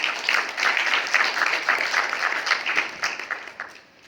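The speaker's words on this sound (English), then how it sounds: "A big clap for Yamikani, please" An audience at the opening ceremony of an arts and book festival gives a round of applause, dense close clapping that holds strong for a few seconds and then tapers off at the end.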